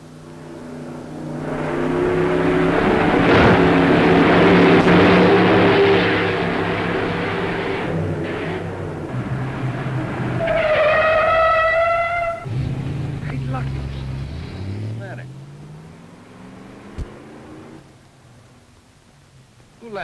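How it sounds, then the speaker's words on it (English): Old jalopy driven over test bumps, its engine roaring and rumbling loudly with revving surges and rattling jolts, while voices talk in the foreground. "take that jalopy over there and run it over the bumps"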